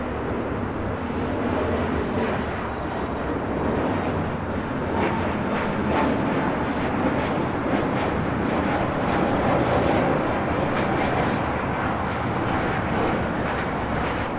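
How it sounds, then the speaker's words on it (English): A Spirit Airlines Airbus A320neo departs runway 25 right at LAX, a loud, steady jet roar with broad rumble and wind buffeting that holds strong and continuous throughout, with no voices. "This is Spirit 3034 taking off to Salt Lake City on an A320 Neo."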